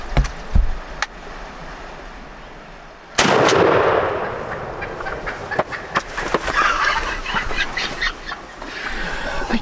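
Shotgun blast at a wild turkey during a hunt: one sudden, loud, close gunshot whose echo rolls on for several seconds, with earlier rustling and faint turkey sounds before it.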